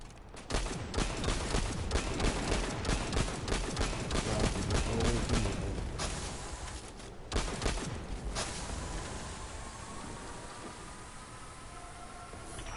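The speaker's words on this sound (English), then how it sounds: "Who is shooting at me like that?" Gunfire during a Destiny 2 Edge of Fate campaign mission: rapid, dense bursts of shots crackle for several seconds, then thin into scattered, quieter reports over a lingering hiss.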